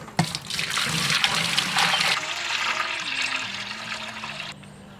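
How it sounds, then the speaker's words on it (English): Filtered tap water gushes from a 5-gallon keg into a brewing kettle at a campsite: a steady, full splashing pour that runs for several seconds, with the tone shifting lower as the kettle fills, then tapers off near the end. "I'm gonna get that water into my kettle"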